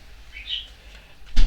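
A pet bird gives a brief, faint chirp or two indoors, a soft high call rising out of quiet room noise, followed by a short louder rustle at the end.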